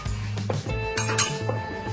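Spoon clinking and scraping in a bowl as chutney powder, turmeric, salt and coriander-cumin powder are mixed into flour for masala rotlo, a few bright clinks over steady background hum.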